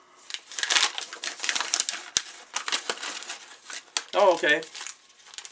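A small replacement part, a top spindle for a Leslie motor, is unwrapped from a little paper envelope, giving close crinkling and rustling in bursts, with a sharp tear midway, while a person speaks briefly.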